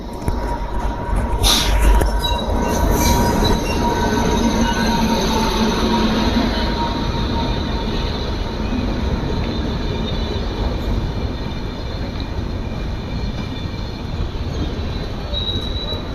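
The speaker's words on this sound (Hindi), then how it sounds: "बरेली प्रयाग एक्सप्रेस से पहले आ रही है काशी विश्वनाथ एक्सप्रेस नई दिल्ली बनारस।" The Kashi Vishwanath Express passenger train, New Delhi to Varanasi, roars past close by for a long stretch, with steady rumbling, clattering wheels and occasional high metallic squeals.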